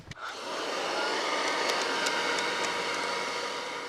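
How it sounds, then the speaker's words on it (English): A post-war Bakelite vacuum cleaner switches on with a click and runs, its motor settling into a loud, steady whooshing whine that holds evenly throughout with no talking. "So you begin to see Bakelite vacuum cleaners made after World War II. All right, so we'll run this one."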